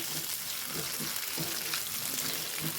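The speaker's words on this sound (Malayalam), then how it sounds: "ഇനി ഇളക്കി കൊടുക്കാം ഒന്ന് വാടട്ടെ" Chana dal and other chutney ingredients sizzle quietly in a pan, a soft steady frying hiss broken by light scraping thumps of stirring.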